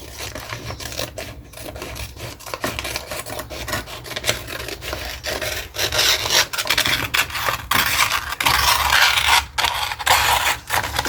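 Scissors or a blade cut through material for a scrapbook case, giving a steady rasping, rubbing crunch that runs continuously and close by.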